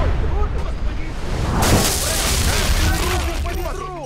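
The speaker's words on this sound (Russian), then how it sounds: "Blow the C4, Cole." A C4 explosion in Sniper: Ghost Warrior 2 booms out, followed by a sustained roar of blast and debris with crackling noise and scattered tones layered over it.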